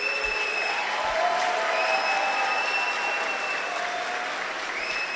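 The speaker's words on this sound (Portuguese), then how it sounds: "recebam também com uma salva de palmas bem forte" Audience at a missionary conference opening breaks into strong sustained applause, a dense steady wash of clapping from a large crowd throughout, with faint tonal hum beneath.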